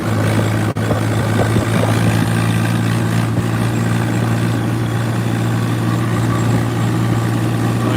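Swaraj 15 and 17 model tractor engines run at a steady, loud, low idle-like drone near a gurdwara in Sangrur, with a brief click early on.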